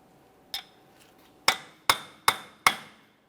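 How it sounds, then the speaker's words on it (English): A hammer drives a metal punch against the front axle of a 2017-2024 GMC Acadia to free it from the wheel bearing: one sharp metallic strike, a pause, then four evenly spaced ringing blows close by. "continue on with a hammer and punch"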